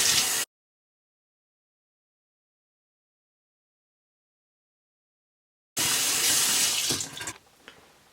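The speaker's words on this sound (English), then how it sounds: "now we're gonna rinse off with cold water" Bleached jeans rinsed under cold running tap water, a loud close rush of flowing water that cuts off, then returns for over a second before tapering into quieter splashing and drips.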